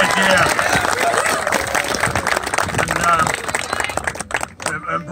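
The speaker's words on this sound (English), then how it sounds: "I just would ask everybody to give Bruce a round of applause for" A crowd at a high school soccer field dedication claps loudly for Bruce Oliveira, dense applause with some voices mixed in, thinning toward the end.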